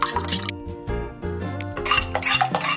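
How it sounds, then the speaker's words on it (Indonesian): Pasta dough being mixed from eggs, salt and flour in a bowl, with steady clinking, scraping and stirring of utensils against dishware, close and busy, no talk. "campur dengan tepung."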